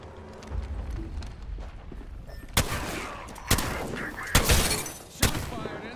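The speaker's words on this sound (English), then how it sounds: "Shots fired, and they're reloading." Four sharp video game gunshots crack out one after another over a low, busy game background, spaced roughly a second apart and fairly loud against the ambience.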